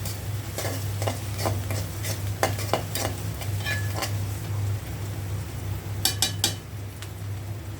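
Chopped garlic and onion sizzle in a pan for beef nihari, with a steady frying hiss and a low hum under repeated metal spoon scrapes and clinks from stirring.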